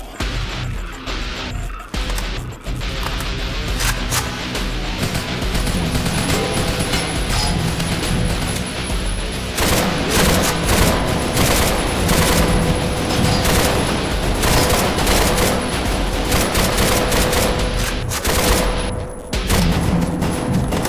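Gunfire in the zombie shooter game Paranoia 2: Savior, dense and loud, a continuous barrage of shots, crashes and booms lasting throughout with hardly a pause.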